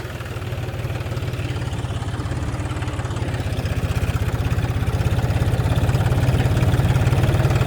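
A tractor engine runs steadily during a stunt, its low, throbbing chug loud and close and building slightly toward the end, with no talk over it.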